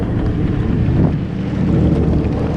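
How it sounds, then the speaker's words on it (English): A jet ski runs across open sea water near Dubrovnik, a loud, steady engine drone mixed with heavy wind buffeting the microphone, close and continuous with no voices. "we're on the jet ski out here in the water"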